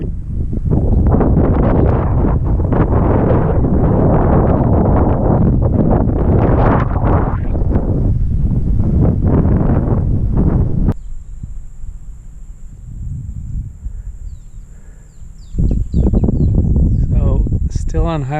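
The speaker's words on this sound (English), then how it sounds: "So far there's been some significant headwind" Strong headwind buffets the microphone while bicycling on a highway, loud roaring gusts for most of the stretch that briefly ease into quieter rustling before surging again; no speech.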